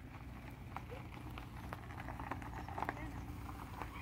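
Horse hooves clip-clop faintly in a quiet countryside spot near Duggan as a rider passes, light irregular hoof taps under steady low rumble and a voice talking.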